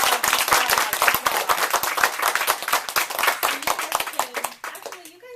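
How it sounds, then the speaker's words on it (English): A crowd applauds loudly, dense clapping that carries on for several seconds before thinning out and fading at the end. "give them another round of applause"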